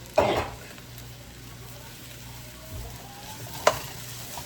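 Rice sizzling quietly in a pot, with one scraping stir near the start and another brief clink near the end over a soft steady frying hiss.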